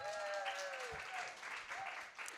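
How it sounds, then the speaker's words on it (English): Audience claps for two panelists at a careers event, a soft, brief spatter of applause with a voice and a high tonal whistle heard over it. "Can you please give them a round of applause?"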